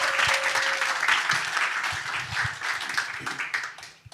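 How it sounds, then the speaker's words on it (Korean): A church congregation gives a warm round of applause as a pastor comes forward for the closing worship service, loud dense clapping close by for about four seconds, tapering at the end. "여러분 나오실 때 한번 큰 감사의 박수 올려주시면 좋겠습니다"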